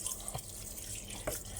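Strong water pressure from a kitchen tap runs steadily as a hissing, splashing stream, close and moderately loud, with a couple of brief clunks, as clothes or a large tuna are rinsed at the sink.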